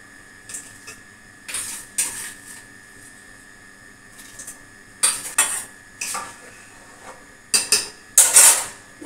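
Washed rice poured into a pot of fried dal for khichuri, heard as a few separate bursts of clattering, scraping and stirring with a utensil against the pot, with quiet gaps between them.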